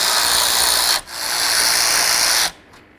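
Power tool spins out radiator bolts on a Chrysler Town & Country minivan, a loud, close high-pitched whine that dips briefly, resumes, then cuts off, with no talking.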